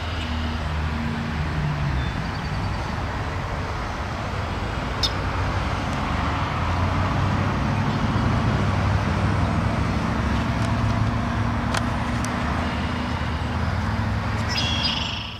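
Cars drive past on a road beside a freight rail line outside Chicago, a steady continuous traffic roar close by with a few brief higher chirps, no voices.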